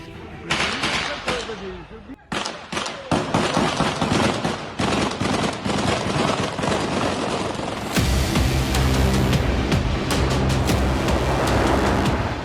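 News footage of a terrorist attack in Dagestan, with bursts of gunfire and rapid automatic shots crackling loud and dense over several seconds, then a steadier, harsher stretch of sustained firing.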